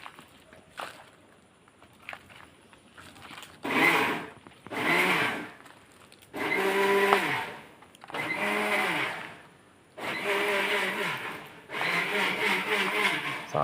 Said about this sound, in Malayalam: വറുത്ത് മിക്സിയിൽ അടിച്ചുകൊണ്ടിരിക്കുന്നു.